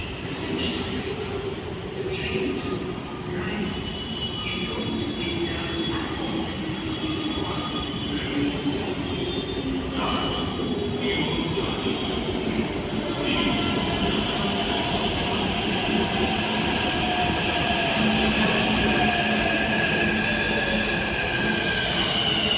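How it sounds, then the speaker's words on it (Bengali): A metro train pulls into a station platform, its steady rumble and rail noise filling the scene with wheel squeals and rising tones as it slows, continuous and fairly close throughout. "যে একটা ট্রেন ঢুকছে,"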